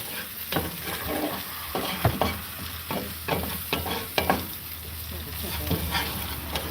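Butter and flour roux cooking on a Blackstone griddle for a morel mushroom and Swiss dish, a steady close sizzle with repeated scraping and stirring strokes of a utensil against the hot surface.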